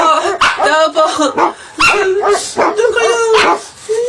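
A dog barks repeatedly in quick, yappy bursts, close and loud, mixed with a person shouting over it.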